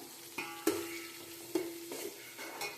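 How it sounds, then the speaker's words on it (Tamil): Onions, small shallots then large onions, sautéing in a pot for Kongunadu-style mutton dum biryani, with a steady low sizzle and a few sharp stirring scrapes against the pot; no talk. "சின்ன வெங்காயம் கொஞ்சம் வதங்கினதுக்கப்புறம் லைட்டாக வதங்கினதுக்கப்புறம் பெரிய வெங்காயம் வெட்டி வச்சிருக்கிறத"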